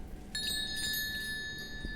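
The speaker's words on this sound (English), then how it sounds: "It's like a door bell. Just tells everybody." A warning bell in Elden Ring rings out from a trap, a sustained metallic ringing with bright, steady overtones that holds clearly for over a second and a half.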